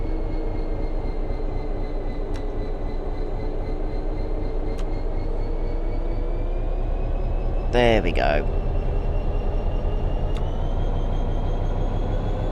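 A freight train's locomotive engine drones steadily with a deep, continuous rumble as its brakes release, joined briefly by a sharp hissing burst; a short spoken phrase sits over the engine noise.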